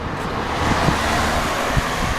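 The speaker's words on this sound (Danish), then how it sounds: "Her er der trafik." Town street traffic rumbles as a steady broadband roar with wind buffeting the microphone, a couple of brief thumps from passing vehicles, no talking.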